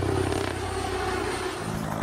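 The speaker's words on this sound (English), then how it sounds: "it cuts down the normal chop, chop, chop sound from a helicopter into a more discrete whir that kind of blends into the background." Comanche military helicopter with a five-blade rotor, giving a smooth continuous whir rather than a distinct chop, steady and fairly loud throughout with no speech.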